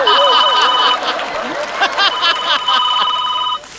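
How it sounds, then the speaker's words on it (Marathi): A telephone ringtone chirps in two bursts of bright repeating electronic tones, separated by a short gap, inside a lively room in a comedy skit set on a honeymoon night, with faint voices and chatter around it. "फोनची रिंग."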